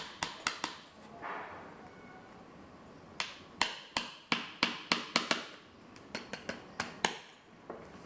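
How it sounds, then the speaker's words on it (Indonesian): Nails hammered into a sponge sandal sole, sharp close taps in short irregular bursts separated by brief pauses, fairly quiet, with no talking. "Sekarang di bagian tengah kita paku juga."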